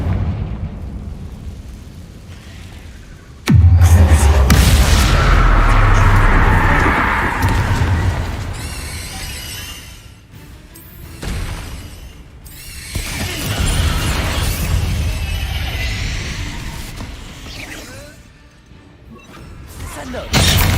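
Confringo blasting spell explosions in the video game Hogwarts Legacy, with a sudden loud boom followed by rumbling bursts and debris crashes. A voice talks in the background.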